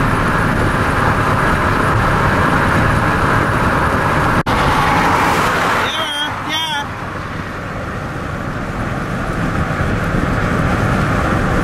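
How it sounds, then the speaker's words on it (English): A car whips past the other way on a road at sunset, its rush swelling briefly around the middle over a continuous loud roar of road noise. "As you can see, the car's whipping by the other way."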